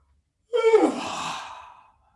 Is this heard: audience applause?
no